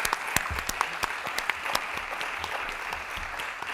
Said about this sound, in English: Big applause for Ben, please.